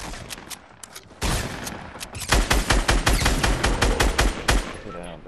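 Gunfire in Fortnite, a loud close barrage of rapid shots that begins with a single blast and builds into a dense, rhythmic automatic stream, with voices talking underneath.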